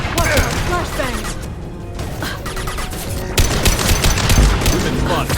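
Gunfire in the video game Mass Effect 2: a dense stream of rapid shots and mechanical clatter with heavier impacts, loud and close, beneath voices talking over the fighting.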